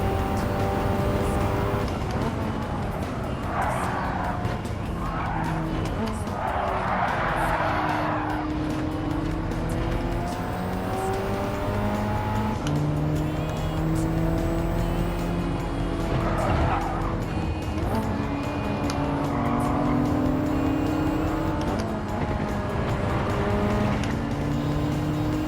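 Race cars in Gran Turismo 7 roar through a lap with steady engine drone, shifting pitch and repeated tire squeals and skids, loud and continuous with no talk.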